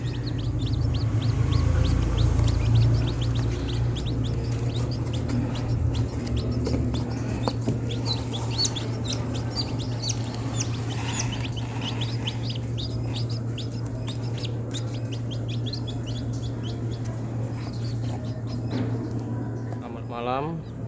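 Newly hatched chicks peep steadily in a manual egg incubator, a continuous chorus of high, close chirps over a constant low hum, while someone speaks throughout.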